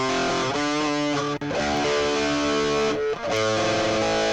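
Electric guitar run through a distortion plugin in a studio mix, playing dense, gritty chords with two short breaks, loud and continuous with no voice.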